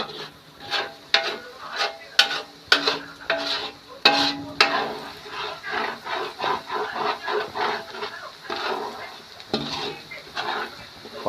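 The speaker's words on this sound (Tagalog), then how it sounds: "Iprito ko na yan." A kilo of hotdogs frying in a pan with garlic and onion, heard as a loud run of repeated scraping stirs and clacks over a low sizzle, continuing rhythmically throughout.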